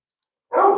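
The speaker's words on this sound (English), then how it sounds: "that's my dog. My deaf dog thinks he hears things outside." A single sharp dog bark indoors, close and loud, bursting in after a moment of near silence.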